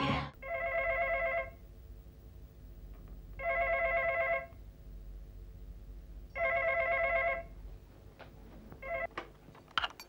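An electronic telephone rings three times in even, repeating bursts, fairly close, followed by faint handling clicks and rustles.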